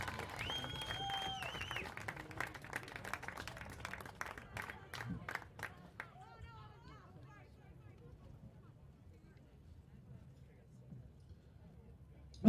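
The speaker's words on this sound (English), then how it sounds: "A warm round of applause and thank you to this amazing group of cheerleading" Crowd applause at a high school football game honoring cheerleading seniors, scattered clapping and some crowd noise over the first six seconds, fading to near quiet afterward.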